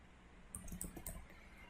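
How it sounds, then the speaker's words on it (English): A handful of quick, soft keystrokes on a computer keyboard, a short cluster of light clicks close by, faint and with no voice. "Now I will type in a new function."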